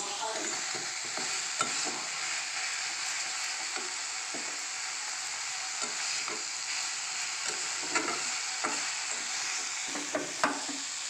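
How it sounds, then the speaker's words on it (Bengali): Spices sauté in a pan for bread upma, with a steady soft sizzle under repeated spatula scrapes and stirring knocks close by, a few sharper clacks toward the end. "মশলা নাড়া হয়ে গেছে"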